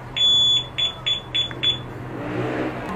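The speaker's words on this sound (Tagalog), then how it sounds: "pipindutin ko, tapos bilangin nyo yung beep, beep, beep, beep" A car's two-way alarm unit gives four or five sharp, high-pitched beeps in a quick regular sequence, followed by a rising rumble of background noise.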